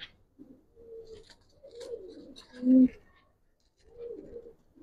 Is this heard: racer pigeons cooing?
yes